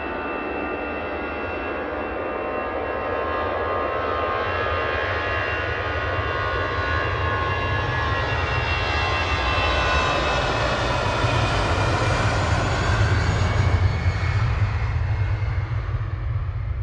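An Airbus A380 jet departs Manchester Airport at full power in the evening, its engines a loud, sustained roar that builds and swells over the full length with no talking.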